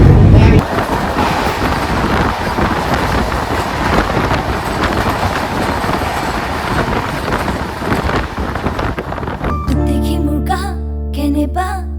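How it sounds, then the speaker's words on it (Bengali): Amritsar Dehradun Express train number 14632 rumbling past in a loud, steady wash of rail noise with wind buffeting the microphone, cutting to a different tonal sound near the end. "এবার দেখাবেন ট্রেন নাম্বার চোদ্দো হাজার ছশো বত্রিশ অমৃতসর দেরাদুন এক্সপ্রেস"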